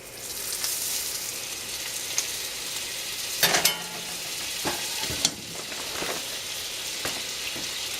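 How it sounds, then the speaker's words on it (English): Butter sizzles steadily in a frying pan still coated with seasonings, ready for keto fried zucchini; a continuous crackling hiss fills the clip, with a few sharper pops and clatters of the pan in the middle, and no talk. "I've got my same pan. I still got some of the seasonings in here. I'm going to put me a little bit of butter."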